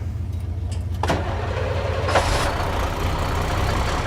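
A work truck's engine cranks and catches, a few sharp clicks giving way to a steady low engine rumble that settles into a continuous idle.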